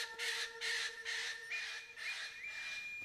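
Eclectus parrot giving a run of harsh, loud squawks, about five bursts in quick rhythm, close and alone with no talk.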